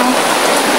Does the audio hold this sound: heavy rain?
yes